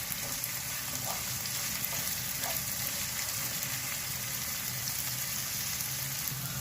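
Pasta roasts in a pan over a high gas flame, producing a constant soft frying sizzle with light crackles, even and continuous, without anyone speaking.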